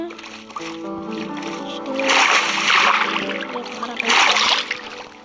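A player character in a video game falls into water, giving a couple of splashy, gurgling bursts over game music while someone talks throughout.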